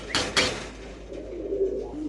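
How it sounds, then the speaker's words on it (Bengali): A pair of pigeons coo up close, a couple of sharp wing or body rustles followed by a low, soft, continuous cooing. "এখানে আছে এক জোড়া কবুতর"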